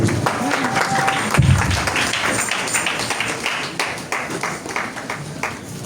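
Church congregation applauding during a French-language worship service, dense steady clapping with scattered sharp taps, a low thump near the start, and faint voices underneath.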